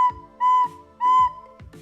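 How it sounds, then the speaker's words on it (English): Recorder notes blown with breath puffs instead of tongued attacks, giving two sustained whistle-like tones with soft breathy onsets and breaks between, plus short puffed starts, played alone and close. "make sure that you're actually tonguing the notes instead of just puffing each"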